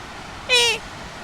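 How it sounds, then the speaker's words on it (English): A single short, high, nasal squeak from a pika sounds once against quiet outdoor mountain-trail background, brief and fairly clear. "there's a pika down there"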